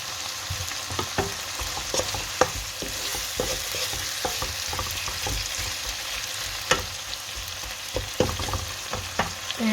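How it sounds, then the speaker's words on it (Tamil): Tomatoes with salt sautéing in a pan while a spoon stirs them, a steady sizzle with repeated scraping clicks at an irregular rhythm, close and moderately loud, no voices. "இது வந்து உப்பை போடுவோம் உப்பை போட்டால் தான் தக்காளி பழம் வதங்கும்"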